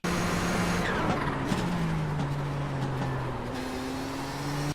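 Nissan GTP ZX-T prototype race car in the iRacing sim at Mid-Ohio's turn 4: a loud, close engine drone that falls as the car brakes and then climbs again, with tire squeal and scrub through the corner and no talking.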